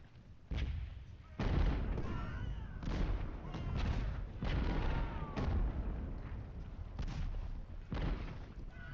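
Musket volleys and artillery fire from the Ultimate General Civil War battle game, heard as repeated booming bursts at irregular intervals, each crackling shot fading into a rumbling background, fairly distant and muffled.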